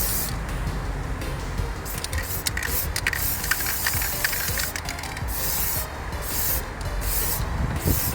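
Spray paint hissing from an aerosol can onto a computer front panel, a close, loud continuous hiss broken by a few short pauses between bursts.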